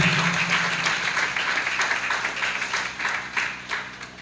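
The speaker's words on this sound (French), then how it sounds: "On nous applaudit pour moi, s'il vous plaît." A crowd applauds steadily, with dense clapping that gradually tapers off.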